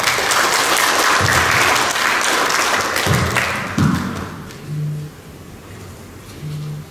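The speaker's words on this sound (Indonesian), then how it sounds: "Baru boleh berikan tepuk tangan sekali lagi" An audience at a regional association meeting attended by a provincial governor claps loudly in a dense burst that tapers off over several seconds, leaving a few scattered claps, a soft thud and low hums from the room.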